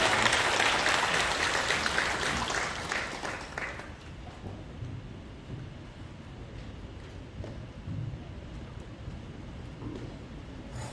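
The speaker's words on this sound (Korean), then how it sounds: "인사드릴 때에 다시 한번 뜨거운 박수 부탁드립니다." Applause from a church congregation at an elder and deacon ordination service in Korea, loud and dense for the first four seconds, then fading to a low murmur of room noise.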